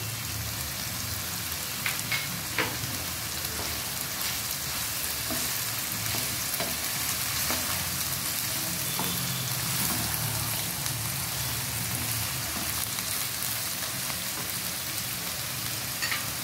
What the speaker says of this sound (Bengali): সবজি হালকা ভাজা হয়ে গিয়েছে,